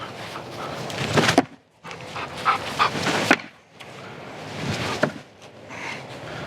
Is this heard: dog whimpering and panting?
yes